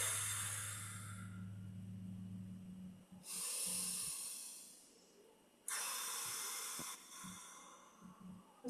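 A person breathes deeply during a gentle exercise routine, with a long, airy inhale and exhale that recur in slow cycles, close and fairly loud.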